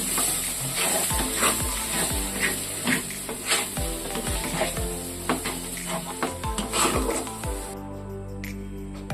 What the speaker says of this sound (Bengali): তেলটা গরম হয়ে গেছে, ওর মধ্যে দিয়ে দেব ধোকাটা। নাড়াচাড়া করে নেব।